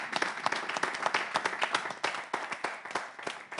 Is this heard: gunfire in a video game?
no